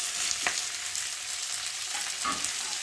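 Chopped tomatoes with salt, turmeric and cumin powder fry in a pan, giving a continuous soft hiss with a couple of brief stirring scrapes, close and without talk.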